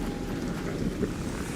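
Heavy rain in the video game ARC Raiders, a dense steady wash with a deep rumbling layer beneath, constant and fairly loud across the short stretch, with no talking.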